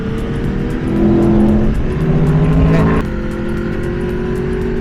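A car overtakes on the SS128 road in Sardinia, its engine droning loudly and steadily close by, the pitch rising and falling as it passes and eases off, with no talk.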